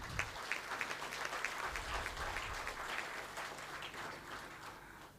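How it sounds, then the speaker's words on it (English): Steady applause from an audience at a graduation ceremony, moderately distant and gradually fading toward the end. "A round of applause to both of them"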